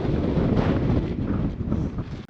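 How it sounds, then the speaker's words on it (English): Strong wind buffeting the microphone on a hike among the rocks of Joshua Tree National Park, a loud continuous low roar with no voices. "It's windy up here, about to blow us off in a couple places."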